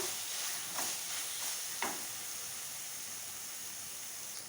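Fried ivy gourd (dondakaya) with curry leaves is stirred in a hot pan, with steady sizzling and hiss under a few distinct scraping strokes of the spatula, close and without talk.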